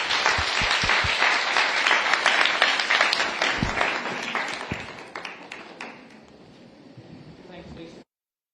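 An audience applauds a conference panel at the U.S. Center during COP 28 in Dubai. The loud, dense clapping peaks early, then thins and fades toward the end.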